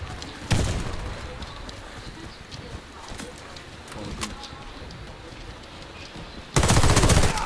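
Gunfire rings out in a shooter video game: sharp, close shots scattered over a background of game noise, with a dense loud burst of firing at the end.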